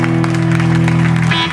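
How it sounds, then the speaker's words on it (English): Crowd applause at a hardcore punk show at Europa in Brooklyn, New York: dense, steady clapping and cheering fill the whole short stretch at full volume, with a sustained low hum running underneath. "Give yourselves a round of applause."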